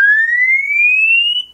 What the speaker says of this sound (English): emergency alarm.